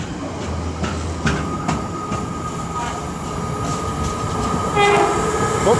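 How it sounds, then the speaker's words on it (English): A passenger train from Liverpool Lime Street to London Euston rolls past at Nuneaton on the West Coast Main Line, a steady close rumble with brief tonal squeals and a short horn-like note near the end. "1 Alpha 70 from Liverpool Lime Street to London Euston."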